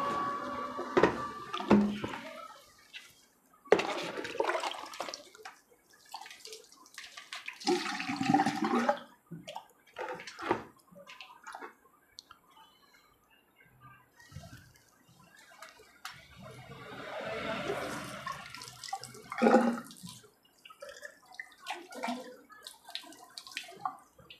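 Water splashes and gushes in uneven bursts while sand is washed off the impeller of a submersible pump, with clinks of handling between the rinses.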